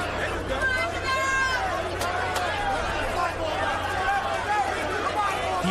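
Crowd murmur fills a boxing arena during a Showtime heavyweight bout between Wladimir Klitschko and DaVarryl Williamson, a steady loud hubbub with voices and a commentator talking over it.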